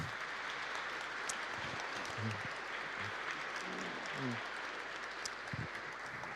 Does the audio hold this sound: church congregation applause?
yes